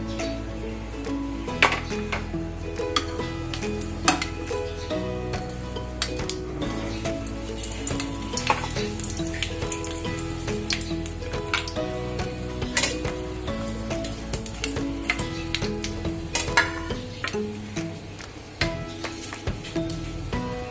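Whole spices — bay leaf, cinnamon, cloves and black pepper — crackle in hot oil for a Khandeshi patodi rassa masala, a steady close sizzle with frequent sharp pops and occasional utensil clinks throughout.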